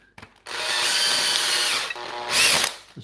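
A DeWalt battery-powered grinder runs with a steady, loud high-pitched whine close by, briefly dipping then surging louder before winding down, with no talk.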